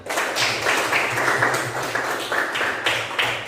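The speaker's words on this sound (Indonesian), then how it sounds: "Luar biasa, tepuk tangan." A classroom of students applauds together, a dense steady patter of many hands clapping close by for a few seconds.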